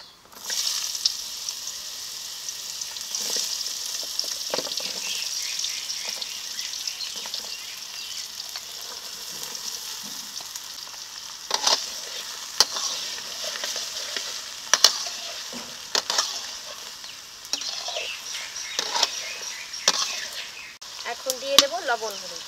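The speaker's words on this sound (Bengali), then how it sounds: "এই তেলে ঝিঙে আলুগুলো ভেজে নেব।" Ridge gourd and potato pieces sizzle steadily in hot oil close up, with occasional louder crackles and spatula scrapes as they are stirred, and a voice speaking now and then beneath.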